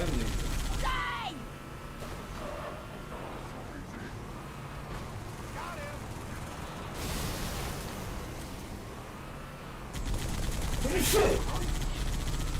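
Rapid automatic gunfire and explosions from the video game Halo 2 crackle and rumble continuously under game voices and player chatter, with bursts swelling louder near the end.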